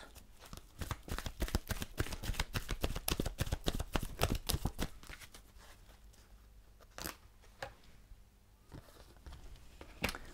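Oracle cards being shuffled by hand, a fast run of dense papery riffles and taps that loosens and slows toward the end, close up with no talking.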